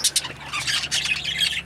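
Pet birds squawking and chirping in a breeding cage setup, a cluster of sharp harsh calls and shrill bursts, fairly close with no voices.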